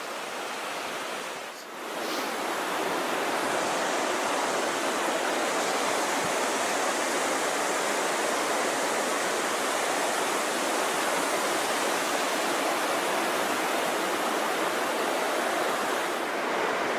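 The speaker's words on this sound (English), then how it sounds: "the Little Qualicum River. Very close to its source at Cameron Lake." The Little Qualicum River rushing close to its source at Cameron Lake, a steady broadband roar of flowing water that fills the whole clip, briefly dipping near the start before holding constant and loud.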